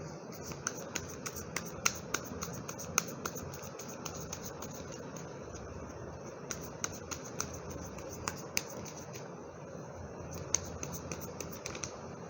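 Tarot cards being shuffled and drawn give rise to a run of soft, sharp flicks and snaps scattered irregularly over quiet room tone, with no voices.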